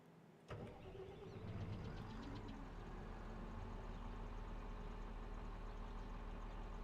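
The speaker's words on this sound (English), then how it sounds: "Listen to that engine again." A tractor engine in Farming Simulator 22 starts with a sharp onset, then settles into a steady, loud, continuous idle rumble with a few brief mechanical clicks early on.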